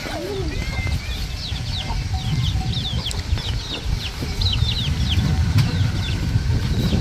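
Chickens cluck and squawk in a farmyard, with repeated short, bright calls scattered over a continuous low engine-like hum in the background.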